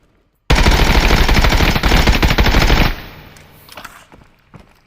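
Loud, sustained automatic 5.56x45 rifle fire from the video game Contractors, a dense burst of rapid shots lasting about two and a half seconds, then ringing echoes and a few faint clicks and rattles.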